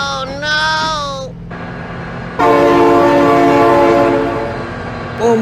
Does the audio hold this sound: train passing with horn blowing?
yes